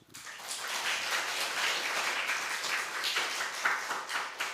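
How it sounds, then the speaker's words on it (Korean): Applause from a church congregation during a Sunday worship service, building quickly and holding steady for several seconds, moderately loud with scattered distinct claps. "박수 한번."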